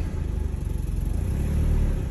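Mazda Miata with a stage one turbo idling up close, a steady low rumble with the throttle feathered so the engine note swells slightly toward the end, no talk.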